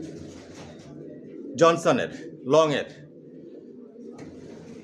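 Racing pigeon chicks of Janssen long-distance stock coo twice in brief rising calls between stretches of someone talking nearby.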